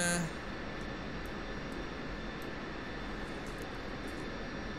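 Steady, dense roar of an F-16C Viper jet engine in the DCS flight simulator, a constant broadband rush heard from the cockpit with a faint high whine and no pauses.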